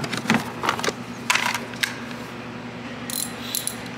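On a Volvo XC, the hood latch is turned to the unlock position with a few light metallic clicks and ratcheting scrapes. A steady low engine-bay hum sits underneath, and brighter clicks come near the end.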